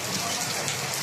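Heavy rain pouring down steadily from inside a patrol vehicle, a dense, loud broadband hiss without any break.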